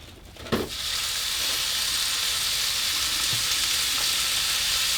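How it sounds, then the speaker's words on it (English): A pound of ground beef dropped into olive oil in a small pan: a quick thud, then a steady, close hiss and sizzle of frying that continues evenly throughout. "let's go ahead and put our meat into it, the pound of ground beef"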